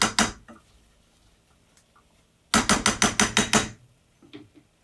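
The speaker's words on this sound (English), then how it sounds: "I'm going to be using a whisk." A metal whisk works a white roux in a pan for béchamel sauce, clattering in quick, sharp knocks against the pan: a couple of strokes, a pause, then a rapid run of about seven before a few softer taps.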